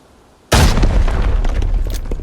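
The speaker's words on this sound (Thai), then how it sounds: "ระเบิดแกโยนระเบิดอยู่ใช่ไหม" A grenade explodes in the online shooter game Arena Breakout: a sudden, loud, close blast that hits at once and then rolls into a long, rumbling, crackling decay, with no voices over it.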